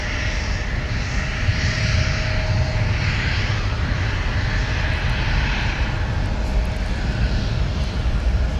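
A Delta heavy jet airliner departs Minneapolis–Saint Paul airport for Paris, its engines producing a loud, sustained roar with a broad rushing texture that holds steady throughout, heard outdoors with no talk.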